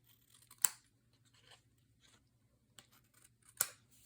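Scissors trimming paper cardstock nearby, with two sharp crisp snips standing out in an otherwise quiet room alongside faint rustles and handling noises.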